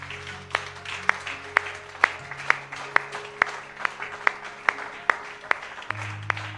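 A church congregation at a French-language sermon claps in a steady, even rhythm, about one sharp clap every half second. The clapping rings out over sustained organ-like tones.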